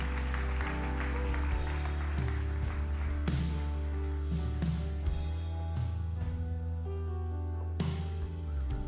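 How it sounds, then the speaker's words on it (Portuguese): A church congregation applauding during a sermon, fairly quiet clapping under loud, sustained keyboard and bass worship music. "aplauda Ele o mais forte que você puder"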